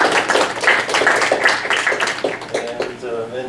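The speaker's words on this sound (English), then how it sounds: "Round of applause." Scattered audience clapping at the close of a panel talk, heard under someone speaking, with brief sharp claps running through the first two seconds and then thinning out.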